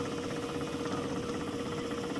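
Stepper motor straining at maximum load in a 3D-printed part pull tester, a steady buzzing hum with a fixed tone and rattling vibration, continuous and close, with no voices.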